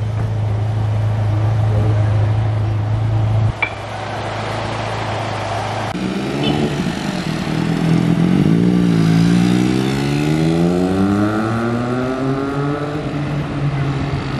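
A motorcycle on a Barcelona street idles with a low steady drone, then revs up with rising and falling engine pitch that sweeps loud and close before easing back, with city noise around it.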